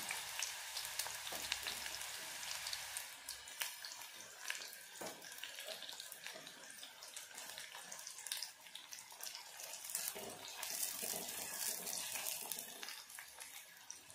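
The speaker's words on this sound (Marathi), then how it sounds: "इथे आपलं तेल गरम झालेलं आहे, मी इथे कांदा तळून घेते" Onions fry in hot oil for a veg biryani, producing a continuous rushing sizzle with a watery texture that swells and dips slightly, with no one talking.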